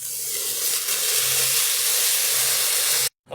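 Water pours into a hot pan of rasam spiced with blended black pepper, coriander seed and cumin, giving a steady, loud, broadband sizzle and hiss for about three seconds before it cuts off abruptly.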